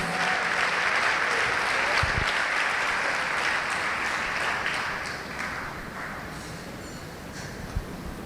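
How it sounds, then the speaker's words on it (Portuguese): A church congregation applauds steadily during a worship service, a dense, loud wash of clapping that fills the whole stretch and tapers slightly toward the end. "Vamos aplaudir o Senhor, e se coloque de pé no seu lugar."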